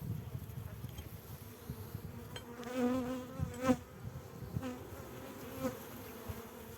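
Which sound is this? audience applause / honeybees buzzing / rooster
honeybees buzzing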